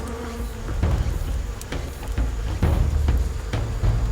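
Asian giant hornets at an underground nest, a loud, close droning buzz that swells and fades as insects fly past, with a few sharp knocks breaking through.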